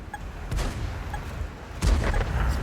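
Heavy booming cannon fire from tanks in a video game battle, two or three big blasts with rumbling tails, close and loud amid a continuous battlefield din, no voices.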